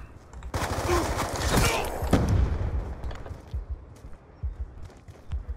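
Heavy gunfire in Call of Duty: Black Ops 2 multiplayer, a shotgun-type weapon firing loud close blasts that give way to scattered shots and clatter over roughly five seconds.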